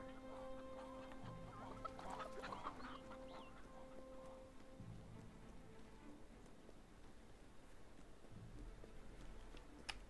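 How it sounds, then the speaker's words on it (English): Chickens in the game Fable III cluck softly amid a steady background hum, with a brief cluster of squawks early and the sound staying faint throughout. "I know one set of chickens is in the lobby."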